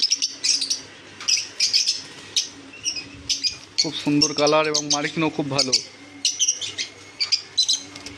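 Cockatiels, java sparrows and lovebirds kept for sale chirp in rapid bright bursts throughout, with someone speaking over the birds in the middle.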